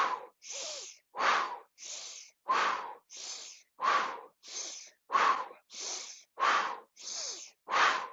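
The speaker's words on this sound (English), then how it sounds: "Exhale everything out. Inhale." Forceful, rhythmic breaths during a breathing exercise, about thirteen quick exhales and inhales that alternate evenly with short silent gaps between them, close and clear with no speech.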